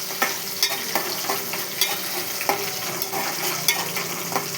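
Curry leaves frying in hot oil for a Telangana-style okra curry, a steady close sizzle broken by sharp crackling pops every half second or so, with no voices.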